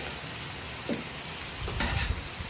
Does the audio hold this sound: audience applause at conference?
no